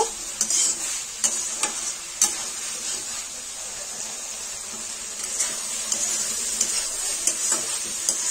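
Soybean chunks and potatoes with salt and a little sugar being stir-fried in a pan, a continuous close sizzle punctuated by regular scraping knocks of a spatula, no talking.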